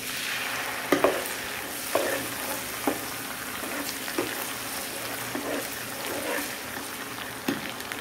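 Onion paste frying in a pan for Afghani chicken biryani, a steady close sizzle broken by regular spoon stirs and scrapes roughly once a second, without talk.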